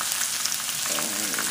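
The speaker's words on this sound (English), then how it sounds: "I like frying my tomato paste in the oil until the color comes out just a little bit darker." Tomato paste sizzles and fries in hot oil with ginger and garlic in a pan, a bright continuous crackle close up, with a soft stirring sound toward the end.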